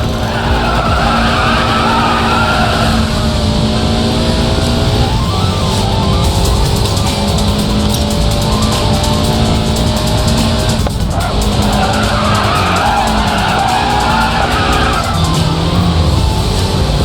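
Race car tyres skid and squeal in the Racing Master video game as the driver countersteers, a loud continuous screech over a steady engine drone that runs throughout with no talk.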